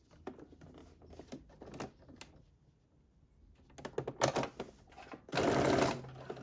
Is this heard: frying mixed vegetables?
no